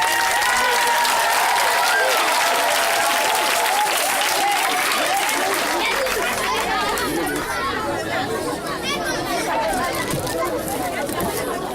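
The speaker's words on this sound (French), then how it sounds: "Acclamez Jésus d'abord. Acclamez Jésus." A church congregation claps and cheers loudly for Jesus at a worship service, and the applause and crowd chatter stay dense and sustained throughout.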